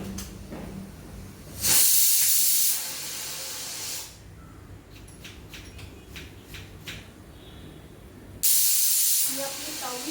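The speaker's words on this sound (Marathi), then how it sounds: "ही आपली 6वी शिट्टी आहे" A pressure cooker whistles twice while pav bhaji cooks, each a loud sustained steamy hiss lasting a second or so, separated by quieter kitchen sounds and faint clicks.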